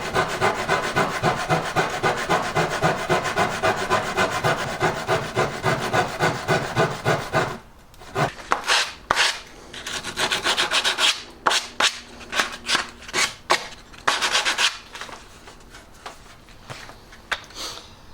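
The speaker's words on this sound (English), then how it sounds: "As Irwin floorboards saw, it's a pretty crucial part of my toolkit. Tiny little teeth on it enable you to cut off thin slithers like that." An Irwin floorboard saw with tiny fine teeth trims thin slivers off a wooden decorative shelf edge. Rapid, steady back-and-forth strokes run for about seven seconds, then give way to sparser, irregular cuts and rubs, close up and without talk.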